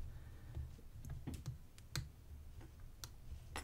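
Light clicks of lock pins while a Chubb Conquest padlock is picked, small scattered ticks close up and faint over a low background hum, no talking.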